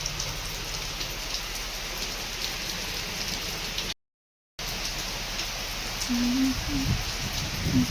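Steady rain falls near a village river in Odisha during flooding, a dense, even hiss that cuts out briefly and then returns. Near the end, a faint voice is heard under the rain.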